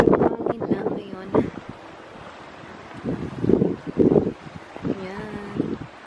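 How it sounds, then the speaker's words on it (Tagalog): Gusty wind at a beach buffets the microphone in steady rushing bursts, with people talking over it. "Medyo mahangin lang ngayon."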